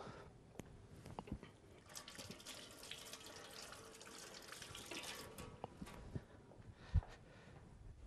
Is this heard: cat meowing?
no